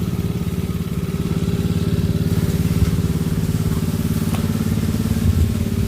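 A rotary tiller's engine runs steadily up close, a loud, continuous rattling mechanical drone with even, rapid pulsing throughout and no break in the sound.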